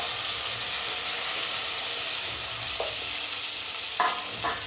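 Onion and garlic fry in a pan for lemon rice, giving a steady broadband sizzle with light stirring scrapes and a couple of brief louder clinks near the end.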